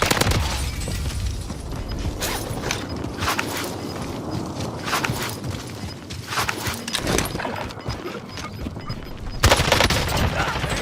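Sustained MP5 submachine gun fire in a Warzone match, shown as dense repeated transient bursts over about eleven seconds, loud and close, with brief pauses and a heavier burst near the end.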